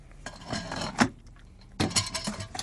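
Dishes and metal utensils clatter and clink as someone rummages through a pile searching for a spatula, with a few sharp knocks and a busier burst of jangling near the end.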